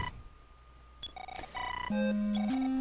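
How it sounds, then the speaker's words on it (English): A chiptune telephone ring in the NES game Mother (EarthBound Zero) plays as electronic beeps stepping into a sustained buzzing tone, clear and fairly loud with no voices. "What? Telephone."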